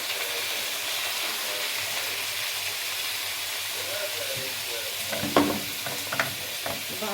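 Onions and garlic sizzle steadily in a hot pan, a soft continuous fry with a few louder stirring scrapes and bursts near the end, heard alone without talk.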